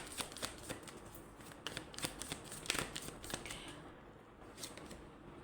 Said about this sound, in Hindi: एक बार और शफल कर देते हैं।